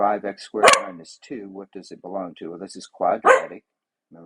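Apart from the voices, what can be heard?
dog barking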